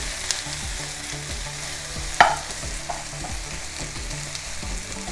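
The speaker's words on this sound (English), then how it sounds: "Fry the white onions first." White onions frying in a pan just after beef, a steady sizzle with scraping spatula strokes and one sharp clatter near the middle, close and alone.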